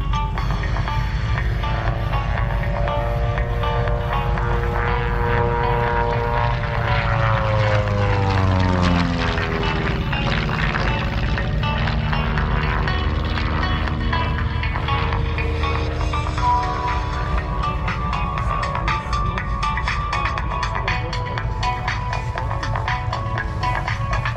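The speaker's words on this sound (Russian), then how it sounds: "Сейчас еще пилоты два будут лететь, два желтых, а другой желтый вот тут летит." Propeller aircraft fly at an airshow, a loud sustained engine drone that sweeps down in pitch as a plane passes overhead, then settles into a steady buzzing roar.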